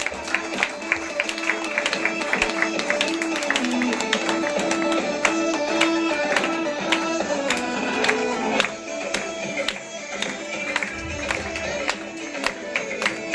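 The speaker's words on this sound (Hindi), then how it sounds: "तालियां बजाते रहिए।" Audience clapping at a prize distribution ceremony, a steady crowd applause sustained throughout at moderate distance, mixed with music and some talking.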